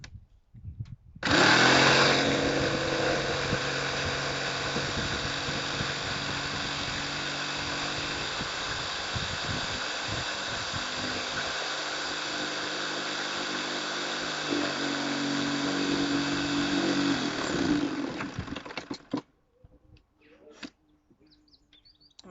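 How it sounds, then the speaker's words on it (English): A jigsaw cuts out a wooden circle in a home garage, running loud and steady for about seventeen seconds with a constant buzzing whine, then stopping abruptly and leaving faint clatter. "I've just about finished cutting out my circle with the jigsaw"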